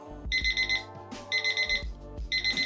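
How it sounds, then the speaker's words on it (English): A desk timer rings in repeated bursts of bright electronic beeping, three clusters at a steady rhythm, loud and close with no voices. "I do have a pretty cool timer on my desk"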